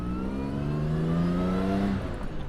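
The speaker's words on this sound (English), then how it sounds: "Fantastic exhaust note." A 1959 XK150S roadster's exhaust roars up close as the engine climbs steadily in pitch, a loud sustained accelerating drone that eases off at the end.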